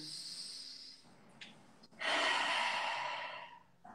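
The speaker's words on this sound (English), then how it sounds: "Now I'm making a roaring sound." A soft breath is followed by a long, forceful, raspy yoga roaring-breath exhale through the throat, close and breathy, fading out near the end.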